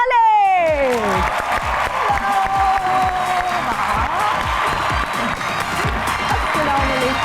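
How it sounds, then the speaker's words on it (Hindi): A studio audience on a talk show bursts into sustained, dense applause with some cheering to welcome actress Veena Malik, the clapping continuing steadily while a host speaks over it. "आप सबकी तालियों में तशरीफ ला दी हैं वन एंड ओनली वीना"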